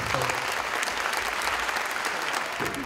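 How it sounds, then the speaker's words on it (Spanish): An audience at the 2011 Mórbido international fantasy and horror film festival in Tijuana claps in sustained applause, a dense, even wash of many hands that holds steady at full strength for the whole stretch. "Así que un aplauso,"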